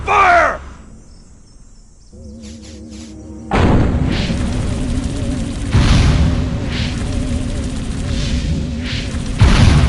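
Alien ray-gun and weapon fire in the Destroy All Humans! video game, loud booming bursts and sustained crackling blasts that start after a quieter stretch of low humming, with insect-like chirps at the start.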